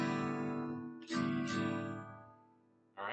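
Acoustic guitar strums a rhythmic strumming pattern alone, with harmonic chord strokes accented near 1.1 s and 1.5 s, ringing out and decaying before a fresh strum at the end.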